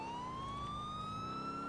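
A steady electronic police car siren in GTA IV wails, its pitch slowly rising, carrying on without a break over a low background rumble.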